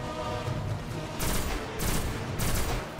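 Gunfire in the video game Destiny, several sharp bursts a fraction of a second apart, rising out of a steady background of game noise.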